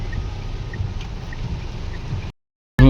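Steady rain falls at Mount Abu, a dense continuous hiss that runs unbroken for a couple of seconds before cutting out, then a brief loud burst returns at the end.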